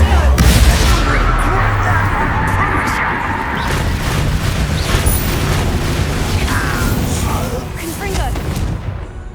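Confringo fire spell explosion in Hogwarts Legacy: a loud roaring blast that rumbles on and slowly fades, with crackling bursts and a voice speaking over the din.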